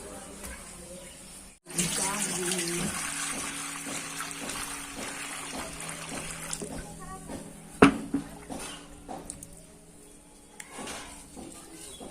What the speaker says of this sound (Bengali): এগুলো একটু ধুয়ে রাখি তো আঠায় ভর্তি হয়ে আছে ওটা ধুয়ে রাখি